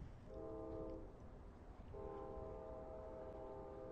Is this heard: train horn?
yes